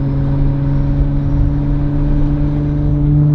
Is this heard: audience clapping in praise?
no